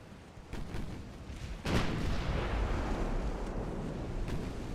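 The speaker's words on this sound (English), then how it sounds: "time to fire at some shells in anger at that battleship group" Battleship guns fire shells in Ultimate Admiral Dreadnoughts: a few distant thuds lead into one heavy booming blast at about the middle, followed by a long rolling rumble that fades only slowly.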